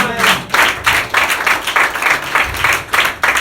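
A church congregation breaks into strong applause, a loud, steady wash of many hands clapping in rhythmic surges that swell and dip throughout.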